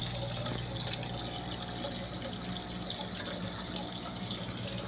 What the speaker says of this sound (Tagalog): Lagyan lang po muna natin ng tubig.